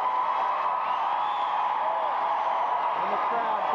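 Steady crowd roar with whoops and cheers fills an arena during Best in Show judging at the Westminster Kennel Club Dog Show at Madison Square Garden, continuous and unbroken throughout.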